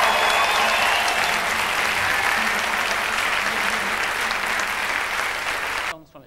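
Studio audience applause greets a musician on a British live-music TV show, a loud, steady wash of clapping for about six seconds before it cuts off abruptly.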